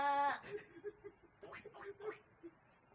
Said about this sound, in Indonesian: Itu Ijah atau bebek ya?